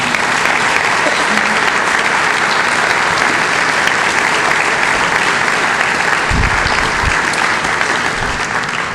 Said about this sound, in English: can we please give them one more round of applause this evening?